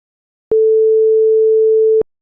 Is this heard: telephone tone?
yes